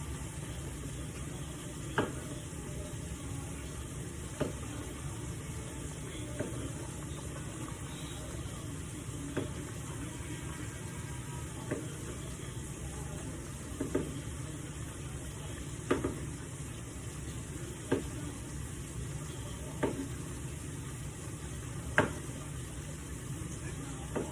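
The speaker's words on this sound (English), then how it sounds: "my spinach and everything is cooking very, very well" Spinach cooks in a pan alongside salmon, a soft steady sizzle close by with occasional stirring clicks and scrapes of a utensil against the pan.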